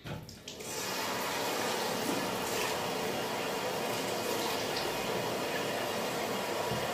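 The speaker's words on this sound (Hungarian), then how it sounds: "Szerintem ezt inkább lemosom vízzel" A tap runs steadily into a sink to rinse a cosmetic product off, a continuous close rushing of water that starts after a brief moment and holds to the end.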